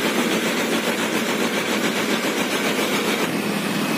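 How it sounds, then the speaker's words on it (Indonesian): A steady, loud Mercedes-Benz OM366LA diesel bus engine rumbling at idle close by, with a constant chugging throb and no voices. "Bus Sampagul yang ini menggunakan mesin Mercedes-Benz OM366LA"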